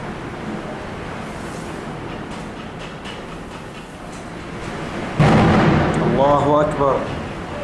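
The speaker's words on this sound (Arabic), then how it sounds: "من هنا يتم إطلاق القذائف على مخيم النازحين في درعا" Mortar shells are fired in Daraa city, Syria, toward a camp for displaced people: a steady outdoor rumble breaks into a sudden loud, heavy blast, followed by shouting voices.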